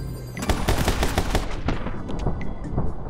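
Rapid gunfire in the PC action game My Friend Pedro, including a shotgun enemy: a dense, loud volley of shots in quick succession that gives way to sparser shots and echoing tails.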